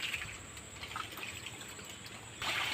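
Water released from a village fishing pond after the catch, trickling and flowing steadily at a soft, even level outdoors, with a brighter rush of flow swelling up in the last moments.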